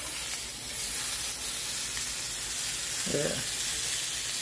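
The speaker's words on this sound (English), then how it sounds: "Listen to that sizzle." Beef hot dogs toasting in a pan give a loud, steady sizzle and crackle throughout, with a brief spoken word near the end.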